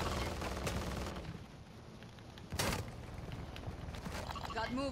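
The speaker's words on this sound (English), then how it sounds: "Oh, some machine gun" Machine-gun fire in the shooter Call of Duty: Modern Warfare II, with rapid crackling bursts and one sharp, loud volley near the middle, mixed in with game noise and a voice talking over it.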